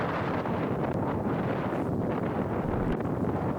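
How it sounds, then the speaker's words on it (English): Strong gusting wind buffets the microphone on an Arizona desert ridge, a loud, continuous broadband roar with slight swells and no voices. "The wind here is just gusting."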